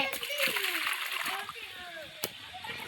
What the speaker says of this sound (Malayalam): ഉള്ള വെള്ളമൊക്കെ മുക്കി ഒഴിച്ചിട്ടുണ്ട് ഈ പാർക്കുട്ടി.